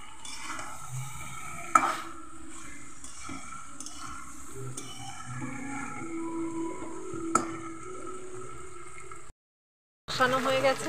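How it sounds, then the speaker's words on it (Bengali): Potatoes stirred in spiced oil in a pan, a soft steady sizzle under intermittent scraping and a few light knocks of the spoon, moderate and close, with a short silence near the end. "এবার আমি আলুগুলো দিয়ে দিলাম। এবার আলুগুলোতেও আমি একটু নেড়ে নেব।"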